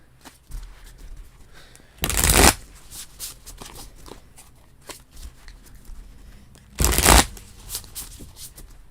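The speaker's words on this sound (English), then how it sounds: "Okay, Gaurav, I will get your reading right after Sanal since I'm already shuffling for them." Two bursts of tarot cards being riffled and shuffled, each lasting under a second, separated by quiet with soft handling noises between.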